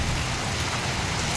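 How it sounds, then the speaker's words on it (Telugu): Heavy rain pouring down in a dense, steady hiss, loud and unbroken with no voices. "ఎంత వర్షం వచ్చింది అనుకోలేదు మా అమ్మగారు."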